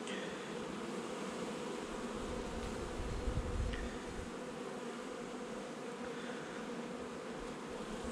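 Honey bees buzzing on frames with swarm cells during queen rearing, a continuous close droning hum of many bees, with one brief louder swell partway through.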